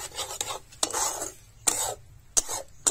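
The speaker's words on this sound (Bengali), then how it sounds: "এবার গরম মশলা আমি দিয়ে দিচ্ছি দিয়ে ভালো করে মিশিয়ে নামিয়ে দেব" Periwinkle curry being stirred in a pot with garam masala just added, giving a run of scraping, rasping strokes of a spoon against the metal, separated by brief pauses and sharper clinks.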